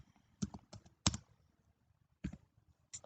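A LaTeX command is typed on a computer keyboard: a few quiet, close key clicks land in small irregular clusters separated by pauses, with no voices.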